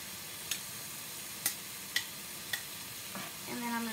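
Sauce being stirred into zucchini noodles in a pan with red hot pepper flakes, heard as a few sharp utensil clinks against the pan over a soft background sizzle.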